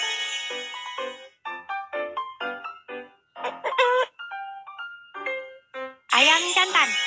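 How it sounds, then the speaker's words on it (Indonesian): In a Babybus children's video game, a voice speaks in a cheerful, sing-song way, then a rooster crows loudly at the end. "Ayam jantan."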